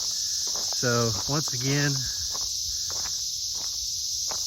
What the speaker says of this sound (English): there's some cicadas